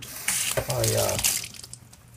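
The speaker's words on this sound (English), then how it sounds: "I rinse the diamond plate with a little water" Water splashes and runs briefly over a diamond plate used for flattening a Japanese natural sharpening stone, a short close rinse that tails off into quieter trickling.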